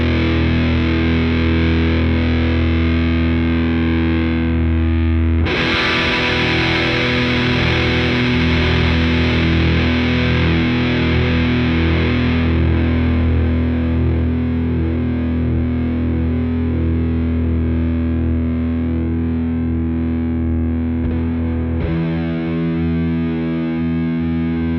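Electric guitar runs through a ProCo RAT distortion pedal into a Twin Reverb amp, producing loud, thick sustained chords with a gritty fuzz that ring out and shift twice, with no voices over it.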